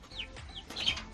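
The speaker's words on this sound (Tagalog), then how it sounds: "Mga manok." Chickens clucking in short, nasal calls, a couple of distinct clucks close by with faint background noise and no voices.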